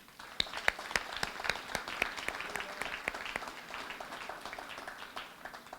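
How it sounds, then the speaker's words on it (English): A crowd claps steadily at an awards gala honoring diversity, dense overlapping applause sustained throughout with scattered sharper claps standing out near the front, no voices rising above it. "give yourselves a round of applause"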